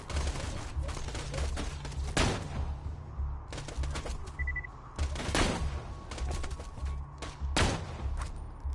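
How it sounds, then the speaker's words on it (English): A gun fires repeatedly in a PS4 shooting game, with sharp loud bursts and single heavy shots echoing over constant low game background noise. "It's got a lot of recoil, this weapon has."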